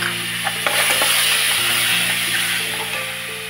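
Masala with coriander powder and tomato sautéing in a pan for dhaba-style shev bhaji, a steady close hiss and sizzle with a few faint clinks, no talking.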